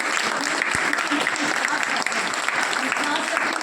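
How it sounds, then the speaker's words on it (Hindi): An audience at a Women's Day event with children and their parents breaks into steady, lively applause, a dense continuous clapping that lasts the whole moment, with a voice faintly mixed in. "सबसे पहले तो मैं इन पेरेंट्स के लिए और इन बच्चों के लिए तालियां बजवाना चाहूँगी"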